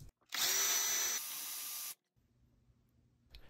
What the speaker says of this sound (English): And we'll drill a hole to install the button properly.